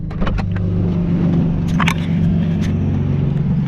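Lexus IS300 driving with a loosened bumper dragging along the road, a steady low engine and road drone throughout with brief scraping and rattling bursts around the middle.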